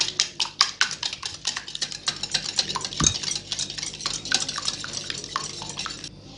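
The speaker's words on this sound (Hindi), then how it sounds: "अंडे हैं इसे अच्छे से फेंट लेते हैं।" Eggs with sugar and a pinch of salt beaten in a bowl, a rapid run of close, bright clinking and scraping strokes against the bowl side, steady for several seconds with no voices.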